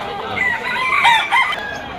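A rooster crows loudly and close by, a long strained call with another crow answering right after.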